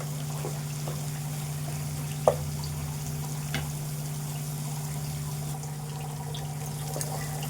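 Cabbage and egg curry frying in a pan gives a soft, steady sizzle with a low constant hum underneath and a few small clicks, fairly quiet, with no talking.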